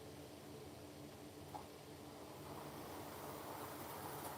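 A Hornby model train runs steadily along its track, a faint continuous rolling rumble with light clicking and one small tick partway through, heard alone with no voices.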